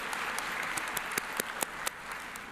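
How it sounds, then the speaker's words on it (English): Audience applause at a BCHS winter event, a dense, steady patter of many hands with a few sharper individual claps standing out, lasting a couple of seconds. "Give them a big round of applause"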